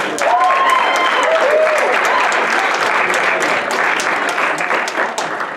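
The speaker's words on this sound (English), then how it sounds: "Give them a round of applause as they come up." An audience applauds loudly at a televised comedy special, steady dense clapping close to the microphone, with a voice speaking over it.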